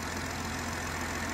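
A BMW X3 M40i idling with the bonnet open, a steady, dense mechanical hum and whir heard up close, even in level throughout and free of talk.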